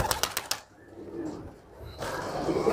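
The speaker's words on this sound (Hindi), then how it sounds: "कितने सारे कबूतर है" Pigeons coo softly nearby, after a few sharp flapping or clicking sounds, with light outdoor background noise.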